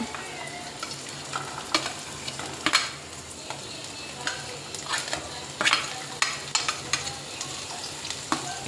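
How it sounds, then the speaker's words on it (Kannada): Vegetables sizzle and crackle in hot oil for pasta, with a steady frying hiss broken by repeated scraping stirs of a spatula in the pan, close and moderately loud, with no talking. "ಎಣ್ಣೆ ಬಿಸಿ ಆದಮೇಲೆ ಅದಕ್ಕೆ ಈ ವೆಜಿಟೇಬಲ್ಸ್ನೆಲ್ಲ ಹಾಕಬೇಕು ಗೈಸ್."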